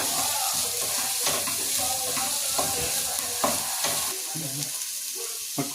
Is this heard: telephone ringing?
no